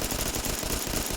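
Security SMG from Fallout 4, fired without a recoil mod: a rapid, steady automatic burst of game gunfire with evenly spaced shots running through the whole short stretch, close and fairly loud.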